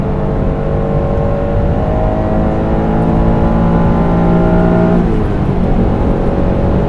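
A stock 1991 Acura NSX engine accelerates hard, its rising whine climbing through the revs, a brief drop at a gear change, then climbing again, loud and close from inside the car.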